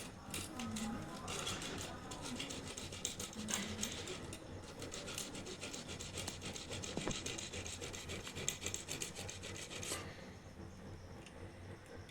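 Scraping carbon off the thermostat contact points of an electric clothes iron, a close, continuous gritty rubbing and rasping with small clicks and knocks.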